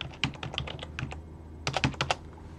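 A computer keyboard typing an nmap command, two quick bursts of crisp, close keystrokes separated by a brief pause, with no voice.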